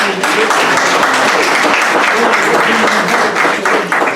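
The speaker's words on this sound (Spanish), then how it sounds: "con un aplauso para animarlo" Applause from an audience at an event on the Amazon synod, steady dense clapping filling the whole stretch at close range, with a voice faintly audible beneath it.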